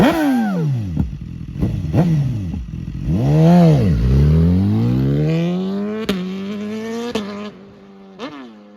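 A BMW S1000RR sport motorcycle rides hard with a quick shifter, its engine screaming up through the revs in repeated rising pulls, each broken by a quick clipped gear change, loud and close with no talking.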